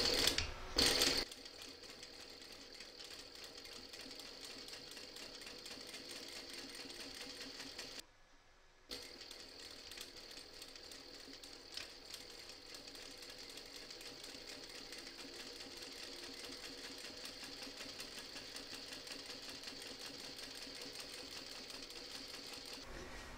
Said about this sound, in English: So we're going to take this to the sewing machine now and stitch it.